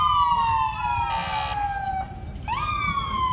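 Police car and fire department command SUV sirens at a holiday Christmas parade, a loud wailing siren falling in pitch, a brief interruption, then rising again with a short burst of another siren layered in, over low street rumble.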